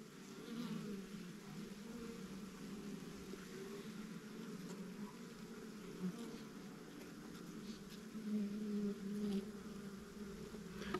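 Honey bees buzz around a top bar hive frame, a continuous low drone that swells slightly at times, faint and close, with no talking.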